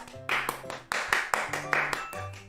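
Hand clapping during a casual chat stream, about eight sharp, fairly close claps in an uneven rhythm over a quiet background hum.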